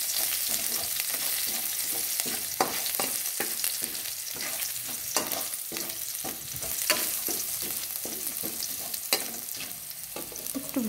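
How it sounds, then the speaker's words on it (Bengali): Chopped garlic fries in hot oil tempered with black cumin seeds, giving a loud, continuous crackle and sizzle up close, broken by repeated stirring scrapes and spatula knocks against the pan. "রসুন কুচিগুলো একটু ভেজে নেব।"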